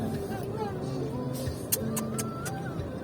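City traffic in Davao heard from inside a car: a steady engine and road hum with a few sharp clicks and brief tones over the top, and no talk.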